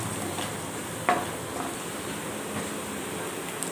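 Onions frying in a pan for an Andhra-style methallu curry, a soft, steady sizzle with an occasional scrape of stirring and one brief clink, quiet and without speech.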